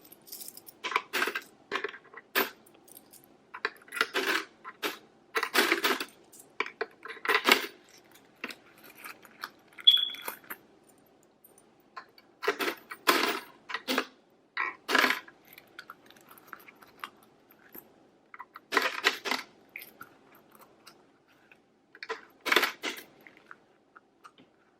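Coins dropping one after another into a kawaii piggy bank, emptied from a cash envelope wallet: sharp metallic clinks and jingles come in bursts separated by short pauses, close and fairly loud, with no talking.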